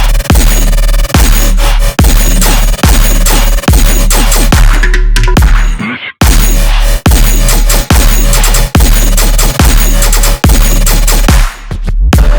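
Heavy sustained bass in a dark electronic drop, auto-panned so it sweeps side to side. Thumping kicks drive a steady beat, loud and dense, with a short break midway and no talking.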